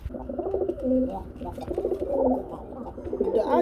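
Desi lotan running pigeons coo close by in soft, repeated throaty phrases, layered over faint background chatter.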